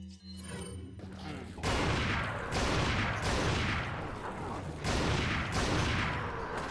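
Gunfire in the Resident Evil 4 video game, played with the Life in Hell mod. Several loud, booming shots ring out at uneven gaps, each leaving a long, noisy rumble that fills the pauses.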